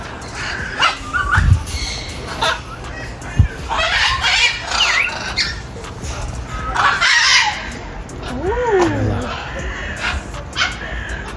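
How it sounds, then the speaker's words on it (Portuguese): Brazilian macaws let out harsh, intermittent squawks and screeches at close range, mixed with people talking nearby. "Ó, arara brasileira, ó."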